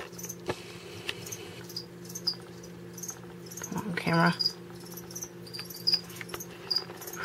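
Cricket chirping steadily through a steady low hum, kept near a spider that is feeding on it, with brief rustles and people talking quietly over it.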